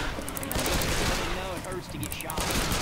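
Rapid gunfire from the Left 4 Dead 2 zombie shooter game rattles in dense, overlapping bursts, loud and continuous throughout the short stretch.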